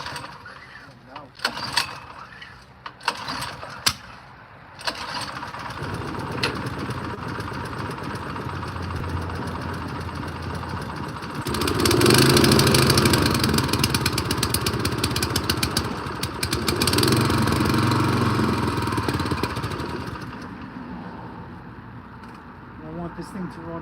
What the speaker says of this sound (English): This motor honestly feels like it has no compression. It pulls way too smooth.